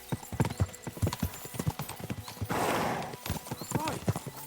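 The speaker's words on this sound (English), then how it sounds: "We should spur the horses on." Horses gallop in Kingdom Come Deliverance II, with rapid, loud hoofbeats clattering throughout and a brief rushing burst in the middle.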